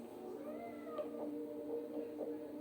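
A cat meows in Life is Strange: Double Exposure, several soft, close mews rising and falling in a short run over a steady low game-world hum.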